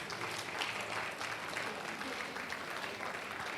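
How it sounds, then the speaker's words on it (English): A crowd applauds Gani Adams at a June 12 lecture of the Oodua People's Congress, a continuous, even roar of clapping from a big audience that holds at one level throughout. "Please, a round of applause for Are Gani Adams."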